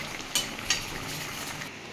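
Bata fish with raw mango simmering in a pan, a soft steady bubbling sizzle with two brief clinks of a utensil near the start, no talk.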